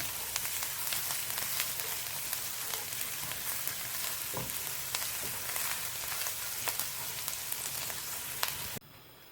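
Finely chopped garlic frying in oil over a high flame, a steady, dense sizzle with crackling pops that runs evenly throughout before cutting off abruptly near the end.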